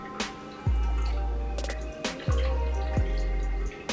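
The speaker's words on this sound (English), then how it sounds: "I am going to take this wig and I'm going to squeeze it over the bowl." Water drips and splashes into a bowl as a freshly dyed wig is squeezed over it, several bursts of dribbling separated by brief pauses, close and fairly loud.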